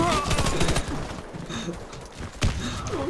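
Gunfire in the shooter game Warface comes in fast, chattering bursts at the start, followed by scattered thumping shots and a sharp hit near the end, all close and loud, with some background noise mixed in.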